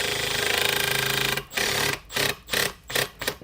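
A power drill drives stainless steel screws during assembly, with a loud continuous buzzing whir at first, then several short rhythmic bursts as the clutch ratchets in and out.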